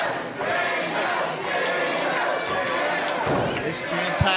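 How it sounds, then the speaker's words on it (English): Jam-packed basketball crowd roaring steadily throughout, a dense wall of cheering with a sharp thump near the end. "This jam-packed crowd behind Dango"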